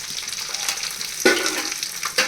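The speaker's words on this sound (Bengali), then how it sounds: "তেল দিয়ে সমস্ত আনাজগুলো আমি এই কড়াইয়ের মধ্যে দিয়ে দেব দিয়ে ভালো করে কষাতে হবে" Chopped greens and vegetables hit hot oil in a wok, giving a steady, loud sizzle with two sharper bursts of crackling as they are stirred in, with no talk.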